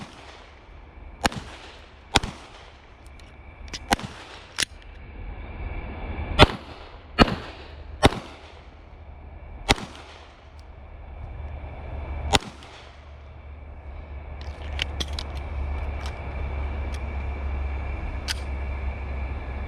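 Gunfire at an outdoor shooting range: about a dozen crisp, fairly distant cracks in an irregular rhythm, some in quick pairs, over a low steady background rumble, with faint scattered clicks near the end.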